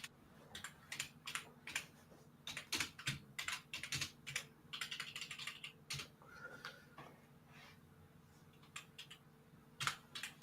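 Steady typing on a computer keyboard, close and fairly quiet, with irregular bursts of clicking keys and short pauses, no talk over it.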